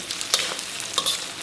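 Ham sausage and carrot are stir-fried in a wok with a little oil, giving a soft continuous sizzle punctuated by quick scraping strokes of a spatula against the pan, close and with no talk.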